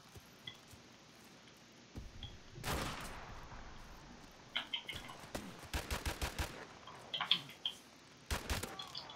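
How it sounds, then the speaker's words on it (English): Gunfire in Call of Duty Modern Warfare Remastered comes as scattered sharp bursts and rapid volleys, fairly faint and distant, over a quiet background with a few light ticks. "Pretty sure I'm shooting a dead body."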